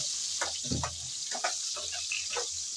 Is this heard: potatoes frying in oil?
yes